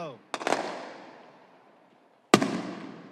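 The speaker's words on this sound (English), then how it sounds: "just messing around with some fireworks." Two fireworks bursts from a high school fireworks show, the first a crackling double pop near the start and the second a sharp bang later, each trailing off in a long fading echo across the night.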